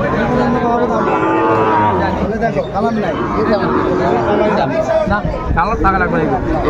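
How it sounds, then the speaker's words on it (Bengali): Sahiwal bull at a busy cattle market, lowing amid a loud crowd hubbub, with people chattering close by throughout. "শাহিওয়ালের ষাঁড় দেখছিলাম এখানে"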